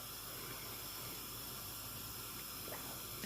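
Water runs from a kitchen tap during dinner preparation, a steady close hiss of flowing water with a faint clink or two near the end.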